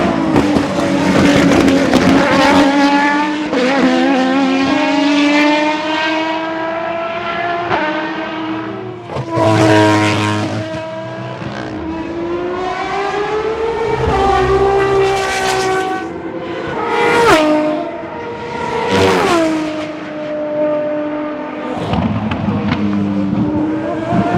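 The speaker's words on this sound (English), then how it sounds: "let's take a quick moment to appreciate that beautiful V12 engine" Aston Martin Valkyrie hypercar V12 engine, loud and close, howling through rising and falling revs with rapid gear-change dips, continuous and alone.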